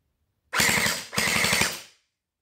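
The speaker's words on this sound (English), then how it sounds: "So I'm gonna pull the trigger so you can see that it really is semi-auto. And then this is full auto." A Hydro Strike Pulsar Pro gel blaster fires on full auto in two close, loud bursts of rapid shots, each about half a second long, with no voices.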